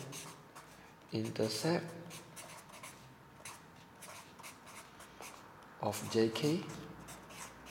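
Pen or pencil writes a maths answer by hand in two short, close scratching strokes about five seconds apart, under a teacher's spoken explanation.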